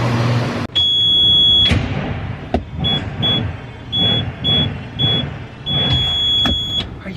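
Truck being moved into a shop's main bay, its reversing alarm beeping in a repeated steady pattern over engine noise, with a few sharp clunks and an air hiss near the start.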